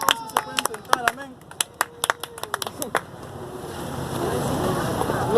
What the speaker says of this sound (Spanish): Dándole ese fuerte aplauso